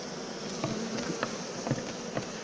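Honeybees in an open hive during autumn nuc preparation, as a comb strip is brushed over them: a soft, steady, close insect hum with a few brief taps and knocks.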